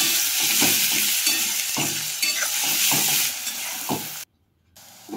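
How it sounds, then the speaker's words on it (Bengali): Onions frying with salt in a pan hiss and sizzle steadily, broken by rhythmic scraping stirs close by; the noise cuts out abruptly near the end before faintly returning. "পেঁয়াজ বেশ বাদামি করে ভেজে নেব।"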